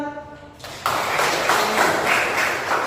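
Classroom of students clapping for a classmate who answered correctly, a broad steady patter of many hands starting after a brief spoken moment and holding loud to the end.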